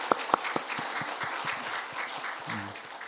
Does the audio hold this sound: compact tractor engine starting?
no